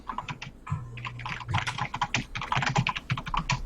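Fingers clatter rapidly over a computer keyboard, a dense, uneven run of close clicking keystrokes that goes on throughout with no talk.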